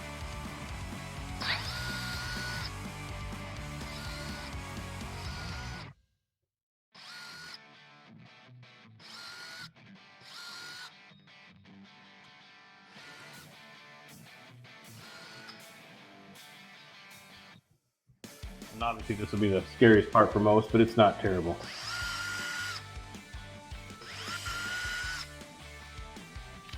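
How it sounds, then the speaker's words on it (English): A power drill with a 1/8 inch bit boring pilot holes in a Harley-Davidson Tour-Pak: whirring motor bursts with short pauses, and a louder, harsher stretch near the end; someone speaks briefly. "I'm gonna drill all the pilot holes"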